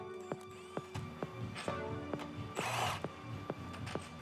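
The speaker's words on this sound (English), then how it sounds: "it's time to remove the bolts from the shock mounts" Shock mount bolts being removed from a BMW M3 Touring G81 front strut with a ratchet, producing a steady series of clicking pawl strokes up close, with a brief rustling burst partway through.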